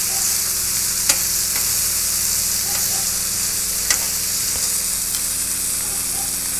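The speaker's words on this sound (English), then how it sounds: "Sizzle, baby, sizzle." Bacon frying on a Pit Boss tabletop griddle with both burners on high gives a steady, loud, close sizzle with faint crackles and a few sharp pops, and no voices.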